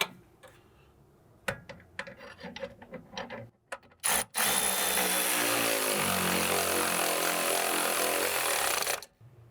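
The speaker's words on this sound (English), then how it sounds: "go with an extension this time and the electric ratchet to snug that up" Electric ratchet snugging a rear sway bar drop link bolt on a Porsche Cayman 987: a few scattered clicks and knocks, then a sustained close whirring buzz of the ratchet running for several seconds before stopping.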